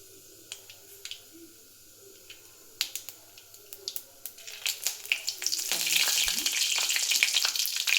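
Curry leaves dropped into hot oil with cumin set off scattered sharp pops and crackles. These build into a loud, dense, continuous sizzle that carries on close by.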